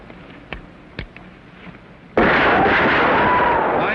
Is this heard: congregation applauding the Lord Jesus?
no